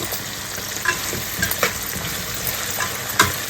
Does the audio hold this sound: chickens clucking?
no